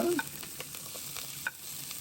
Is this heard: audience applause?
no